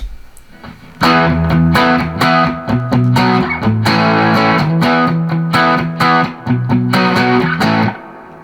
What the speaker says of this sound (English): I've got a lot of reverb on right now